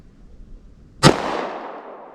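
A single sharp 9mm +P gunshot fired from a short barrel into a block of clear ballistic gel, loud and close, cracking out after a quiet moment and trailing off in a long fading echo.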